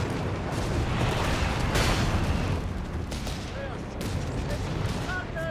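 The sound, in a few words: gunfire in video game Company of Heroes 3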